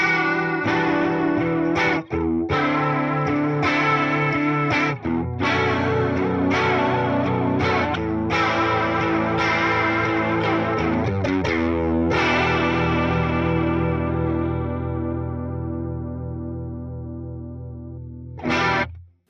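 Guitar chords played through the JC Vibrato modulation of a Fender Tone Master Pro set to stereo, a steady wavering shimmer across several strummed chords, ending in a long decaying ring and a brief final strum, with no voices.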